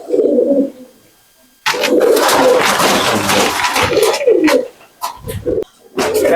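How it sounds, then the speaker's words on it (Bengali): Pigeons kept for sale coo and call in short bursts with gaps between them, close and fairly loud, and a dog may bark faintly among them. "100 গ্যারান্টি এ পায়রা।"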